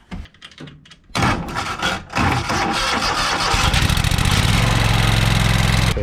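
A Walker lawn mower's engine is jump-started with a screwdriver. It cranks briefly, catches with a loud burst, then settles into a steady, rapid running chug close by, with no talking.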